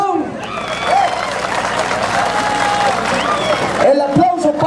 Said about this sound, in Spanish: ¡Aplauso para el patrón!